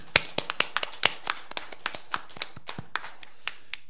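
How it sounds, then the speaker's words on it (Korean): Sparse, individual hand claps from a small congregation at a New Year's service, about twenty distinct sharp claps in an uneven rhythm that thins out toward the end, close and clear. "새해를 주신 하나님께 우리 영광의 박수 한번 올려드리겠습니다."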